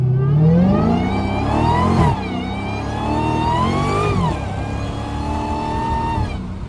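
A Hellcat car with no hood, its engine roaring loudly and close as it accelerates at part throttle, pitch climbing through several strong pulls with brief dips between shifts.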